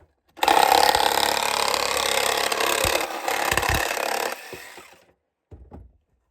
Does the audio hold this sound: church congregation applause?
no